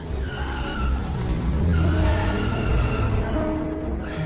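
A car drives and skids in a film scene, with loud continuous tire squeal and engine noise that sustains for several seconds without a break.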